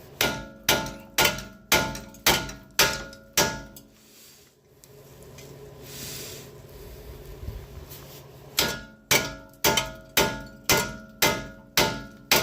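A hammer strikes metal on a Toyota Camry front suspension strut, sharp ringing clangs in steady rhythmic bursts of about seven blows, then a pause of low shuffling, then another quick run of blows, loud and close.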